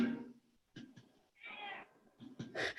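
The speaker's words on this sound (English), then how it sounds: "Is the cat meowing?" A cat meows close by in a quiet indoor room, several short drawn-out calls with pauses between them.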